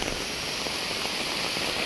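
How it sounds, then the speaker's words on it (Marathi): Rain falls on a riverbank in a continuous, even hiss that stays steady from start to finish, with no voices. "पावसाने मोठ्यानं जरा सुरुवात केली आहे"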